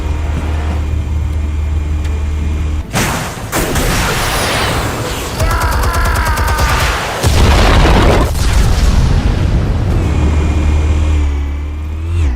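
Explosives detonating in Batman: The Telltale Series game, several heavy booming blasts with rumbling debris and crackle, loud and close, separated by quieter stretches of low ambient hum.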